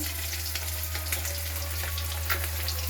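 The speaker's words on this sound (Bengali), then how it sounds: "দেখো, ডিম হচ্ছে" Eggs frying in a pan make a steady, close, continuous sizzle with fine crackling and spitting throughout, beneath a low constant hum.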